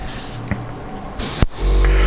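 An airbrush spraying paint for a Kotare Spitfire Vb scale model: a soft hiss at first, a brief click, then a loud, steady spray burst and a continuing hiss.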